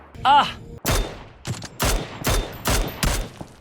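Gunfire in the video game PUBG: a burst of five or six loud single shots at a fairly even rhythm, close and sharp, after a brief tonal electronic blip at the start.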